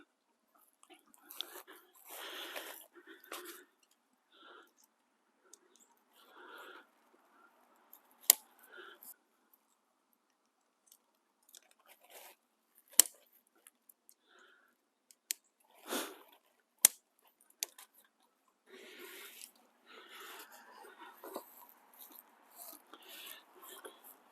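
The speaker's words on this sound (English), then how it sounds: "I'm going to put my poles into the grommets on my footprint" Backpacking tent poles are fitted into the grommets of a tent footprint during a rainy setup: soft rustling of nylon and gear broken by a few sharp, isolated clicks and taps, all quiet and close.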